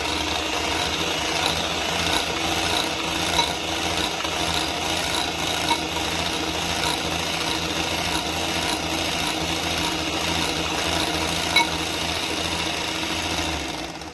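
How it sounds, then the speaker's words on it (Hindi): Electric hand beater on its slowest setting blending oil into a one-egg marble tea cake batter, giving a steady whirring, rasping drone that runs continuously and close up with no talk. "मैंने बिल्कुल स्लो जो सबसे स्टार्ट वाला बीटर ना उस पर रख के इसे तकरीबन 30 सेकंड के लिए बीट करना है ताकि ऑयल मिक्स हो जाए।"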